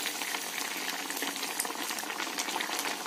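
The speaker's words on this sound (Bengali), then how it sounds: "1 মিনিট মতো ফুটিয়ে এটাকে আমি নামিয়ে নেব" Vegetarian omelette curry bubbles in a pan at a steady, dense boil, with a continuous close crackle of popping bubbles throughout and no voices.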